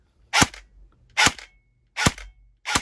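A Strike Industries airsoft gun fires on semi-auto: four sharp, loud, close cracks, evenly spaced about 0.8 seconds apart, with near silence between them.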